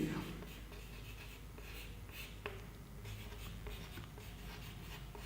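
Chalk or marker writing on a board during a Hindi-medium Class 12 physics lesson on electric charge and field, a steady faint scratching and rubbing that runs continuously with a few brief taps, close by and with no talk over it.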